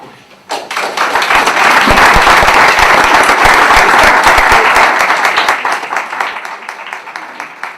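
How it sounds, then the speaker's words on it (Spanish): A dense burst of audience applause erupts suddenly and holds steady and loud at a Spanish-language book launch, the clapping tapering gradually toward the end. "celebremos este libro y démosle un gran aplauso a Jorge"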